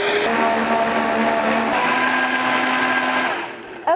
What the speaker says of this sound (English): So I'm gonna go ahead and turn on the Vitamix.